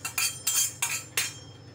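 Roasted sago pearls tipped from a pan into a plate: four quick bursts of rattling, clinking pellets, each a short rush close up, separated by brief pauses.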